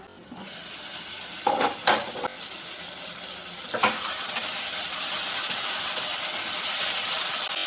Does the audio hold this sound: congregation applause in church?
no